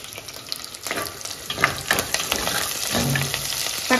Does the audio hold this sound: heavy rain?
no